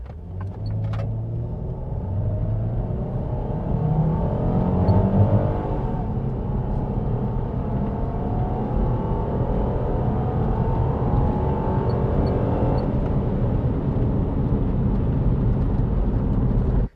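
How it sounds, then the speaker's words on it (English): A 4x4 fitted with a forward-facing ram-head snorkel accelerates from 0 to 100 km/h, giving a steady, loud engine rumble that holds for the whole stretch with little change and no talk over it. "here we go, 0 to 100 kilometres an hour with a forward-facing ram head"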